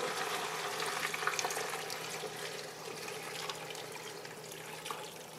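About 1.5 litres of water pours steadily into a cooking pot on the stove, a close, continuous rushing splash that fades slightly toward the end.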